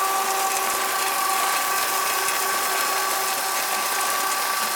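Flexicon screw conveyor running at speed, a steady loud mechanical whir with a fine ratcheting, gear-like texture and a constant hum, unbroken throughout with no talking.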